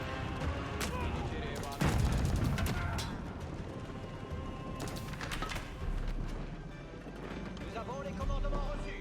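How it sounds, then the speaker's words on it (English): Gunfire and Great Bombard cannon hits on a stone gate in an Age of Empires 4 battle, scattered shots and heavy booms mixed into the game's ambient noise while a commentator talks over them. "Great Bombard getting some good hits on the stone gate."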